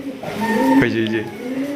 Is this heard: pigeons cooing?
yes